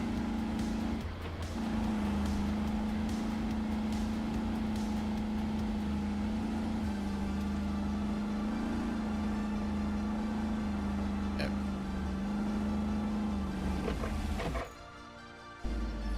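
A big diesel truck engine in the video game RoadCraft, a steady droning rumble with a low hum running continuously until it cuts off near the end, followed by faint mechanical clatter.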